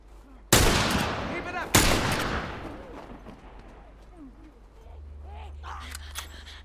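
Two loud, sharp gunshots in The Last of Us ring out about a second apart, each trailing a long decaying echo, followed by quieter ambient game sounds with faint bird-like chirps.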